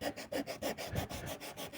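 Sandpaper is rubbed back and forth to strip paint from a plastic water tank, giving close rasping strokes in a steady, even rhythm of about six per second.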